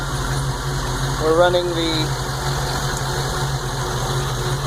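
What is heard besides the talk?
car engine idling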